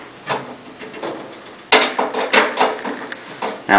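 Phillips head screwdriver tightening screws on a pellet grill igniter, a run of close metallic clicks, scrapes and clanks in uneven bursts.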